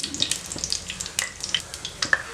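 Mustard seeds splutter and pop in hot oil being tempered for Tamil-style fish curry: a steady close sizzle scattered with sharp, irregular crackles and pops, with no talking over it.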